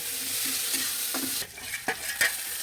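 Onion and green chilies fry in a pan, giving a close, steady sizzle with a few sharp stirring clicks and spatters toward the end.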